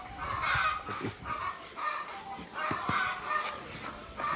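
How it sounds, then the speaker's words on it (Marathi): Hens in a farmyard shed on a goat farm cluck and squawk repeatedly after one lays an egg, their calls faint and somewhat distant in a rising and falling chorus. "ते कोंबडीने अंडी घातले त्यामुळे कोंबड्या ओरडायले."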